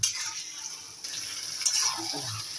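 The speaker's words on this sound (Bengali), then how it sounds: "এভাবে সুন্দর করে মশলাটা মাখিয়ে কষিয়ে নিতে হবে" Chicken with spices sautéed and stirred in a pan, giving a soft continuous sizzle with scraping and stirring noises throughout, fairly quiet and close, with no talking.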